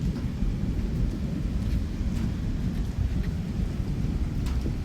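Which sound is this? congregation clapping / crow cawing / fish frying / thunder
thunder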